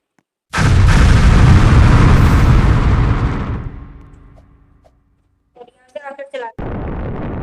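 A loud firecracker explosion in a Roblox weapon-fighting game booms out suddenly and rumbles for a few seconds before fading, followed by short bursts that sound like voices.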